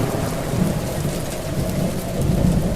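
Heavy downpour with a rumbling thunderstorm, loud dense rain hiss over low rolling thunder that swells and fades, continuous throughout.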